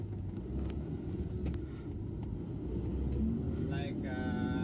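Steady road traffic with many vehicles passing, a continuous low rumble of engines and tires close by, with a brief horn-like tone near the end.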